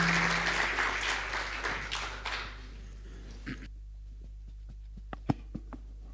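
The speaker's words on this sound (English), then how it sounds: "please give our panelists and our panel members a round of applause" Audience applause at a blockchain staking conference panel in Buenos Aires, a dense burst of clapping from a crowd that thins out after a few seconds into scattered single claps.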